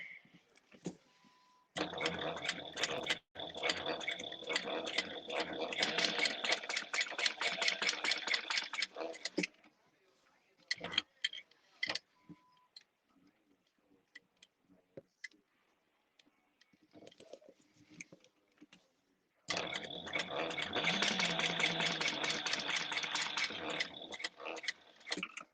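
Sewing machine stitching an ID wristlet strap, running in two long dense bursts of rapid mechanical stitching separated by a quieter stretch of light handling clicks.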